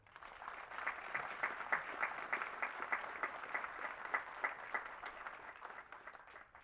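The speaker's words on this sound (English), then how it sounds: "Please give them a round of applause." Applause from an audience at a military basic camp graduation ceremony, steady rapid clapping from many hands sustained throughout, moderately distant and even, with no talk over it.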